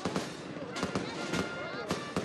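Fireworks burst outside San Cayetano church in the Liniers neighbourhood as the faithful queue to enter. Several sharp, crackling bangs go off at intervals over a steady crowd murmur, with voices talking throughout.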